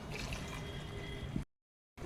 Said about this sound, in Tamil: கொஞ்சம் தண்ணி ஊற்றிக்குவோம்